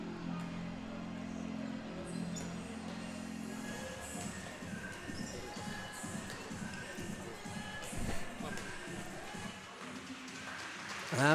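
Spectators at an IBV versus KA sports match clap for an injured player. The rhythmic applause and crowd noise rise in the middle and stay fairly distant, with a commentator's voice faintly underneath.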